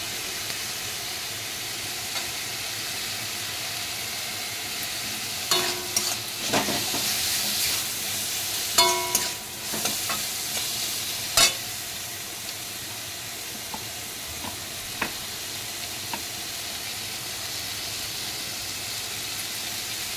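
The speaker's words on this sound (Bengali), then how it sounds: "মশলাটা একটু ভেজে নেব, একটু জল দিয়ে দিলাম, দিয়ে একটু ভালো করে নাড়াচাড়া করে" Spice masala frying in a pan for a paneer posto dish, with a steady soft sizzle and scattered scraping stirs and spatula knocks clustered in the middle, no talking.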